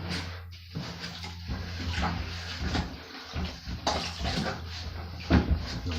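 A grout float coated in Fusion Pro grout is rinsed under running water. Close, steady splashing and gurgling come with a few light knocks and scrapes from handling the float.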